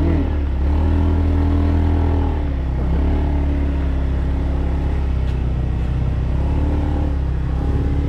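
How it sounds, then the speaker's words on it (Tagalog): Motorcycle on a rural trail near a riverside campsite, its engine droning loud and close throughout with low rumbling pitch shifts, as if idling and revving slowly nearby. "Paunahin natin yung motor."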